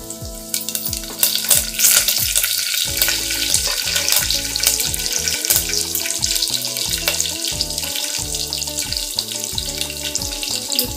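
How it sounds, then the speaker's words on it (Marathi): Garlic sizzles steadily in hot oil, a bright crackling hiss, while a rhythmic musical backing plays underneath, while cooking drumstick khichdi. "लसणाला चांगला सुगंध येईपर्यंत परतवून घ्यायचं"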